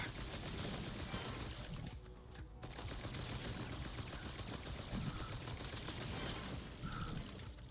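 Dense, continuous gunfire from a VR shooting game, a rapid run of shots blurred into a steady, loud clatter that fills the whole stretch with no pauses.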